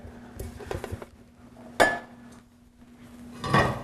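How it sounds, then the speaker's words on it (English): Clattering knocks of a sweet potato being set down on a metal pan in a kitchen, a few faint sharp clanks spread over several seconds, quiet and close. "we're gonna oil that bad boy up, throw her on the pan"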